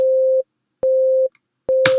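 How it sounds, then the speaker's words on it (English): A basic sine wave synth tone from Ableton Live's Operator plays three times, each a steady pure pitch of about half a second separated by silence, with a short noisy burst near the end. "And if we play it, we have our basic sine wave."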